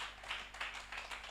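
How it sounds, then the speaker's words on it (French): Audience applause at a French-language evangelism training session, a steady wash of many hands clapping at moderate distance for about a second and a half with no pause. "On peut applaudir."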